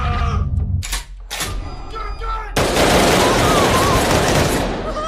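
Police gunfire in the film Unfriended 2, a sudden, loud and sustained volley of shots erupting after brief voices and sharp bangs.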